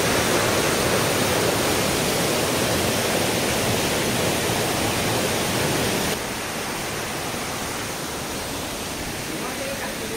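Steady rushing water from two small waterfalls at a picnic spot beside a temple in Rayagada, Odisha, a dense continuous roar that drops slightly in level partway through.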